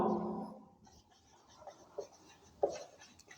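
A note is written by hand on a classroom board or page, giving a few faint, short scratching strokes after a voice fades out at the start.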